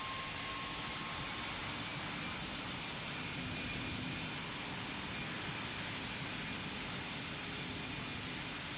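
Korean Air airliner on final approach in the Roblox flight simulator Pilot Training Flight Simulator: a steady, loud broadband jet roar that holds unbroken throughout, with no talk.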